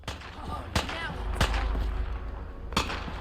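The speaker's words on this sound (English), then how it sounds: "A lot of gunfire going on." Sharp gunshots in the game Fallout 4 crack out sporadically over a dull rumbling background, a few distinct blasts spaced seconds apart amid battle noise.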